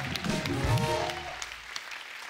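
Faint audience applause at a comedy talk show, a soft wash of clapping from a studio crowd with a voice speaking over its start, fading lower toward the end.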